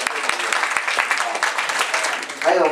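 An audience at an event clapping together, a dense burst of applause close by and fairly loud, with a voice speaking over it toward the end.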